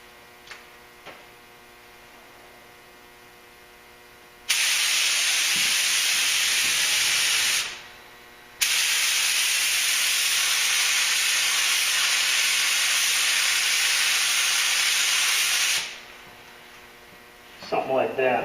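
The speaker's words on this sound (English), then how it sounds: "I've adjusted the pattern down to a smaller spray for doing these spots so I don't get so much overspray." A paint spray gun set to a narrow pattern hisses onto Duramax truck doors in two sustained, even bursts with a brief break between them, with faint clicks before and after.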